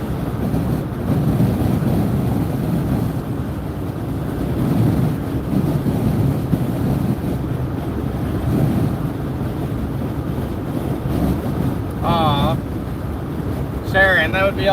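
Hot wind buffeting the microphone through an open car window while driving toward Oregon, a continuous loud rumbling roar with gusty swells, close and steady, with brief chirpy tones near the end.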